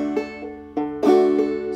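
A clawhammer banjo picks out the opening measure of a song, several bright plucked notes over a steady ringing drone with a louder brush of strings near the end, played alone and close.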